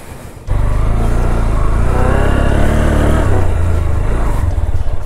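A motorbike on Aare Ware beach near Malvan revs hard while climbing a sandy slope, its engine note loud and close, steady and strained for several seconds after a brief quieter start.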